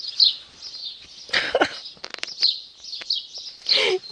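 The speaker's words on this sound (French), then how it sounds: "Ils s'excitent d'un coup les oiseaux" Small birds chirp excitedly outside, one perched on a low garden wall, giving bright, high repeated calls in short bursts, mixed with a few nearby coughs and rustling noises.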